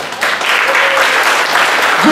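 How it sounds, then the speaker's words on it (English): Crowd applause at a Muay Thai fight weigh-in at a UFC gym, a dense burst of clapping from a gathered audience lasting about two seconds, with voices mixed in. "give a big hand of applause"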